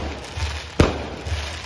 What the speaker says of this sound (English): as the last number is called, fireworks explode in the night sky